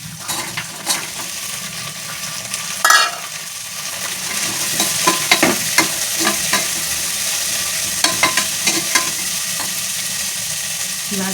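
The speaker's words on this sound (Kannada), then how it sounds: "ಆನಿಯನ್ ಫ್ರೈ ಆದಮೇಲೆ ಬಟಾಣಿ ಹಾಕ್ತಾಯಿದ್ದೀನಿ." Green peas frying in a pan with fried onions make a steady loud sizzle, with a clatter as they go in and then rhythmic stirring scrapes and clinks, without speech.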